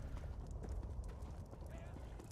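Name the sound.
horse hooves in Elder Scrolls Online video game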